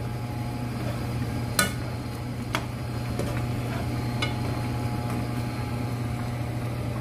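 A spoon stirs soup with potatoes in a pot, giving faint scraping under a steady hum, with a couple of sharp clinks of utensil against the pot.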